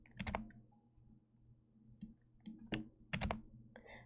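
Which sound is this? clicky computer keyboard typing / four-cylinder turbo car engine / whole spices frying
clicky computer keyboard typing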